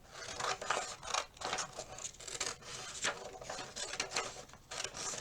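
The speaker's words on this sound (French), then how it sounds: "Je vais couper les bandes." Scissors snip repeatedly through paper strips in quick, uneven bursts, close up, with brief pauses between runs of cuts.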